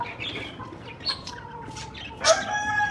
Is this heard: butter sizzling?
no